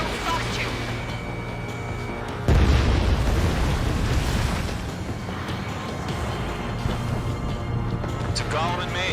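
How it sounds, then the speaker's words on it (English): In the video game Ace Combat 7, a missile strikes a bomber with a heavy booming explosion that bursts loud and rumbles on for a couple of seconds over steady jet engine drone, with radio chatter in the background. "Bomber hit by a missile."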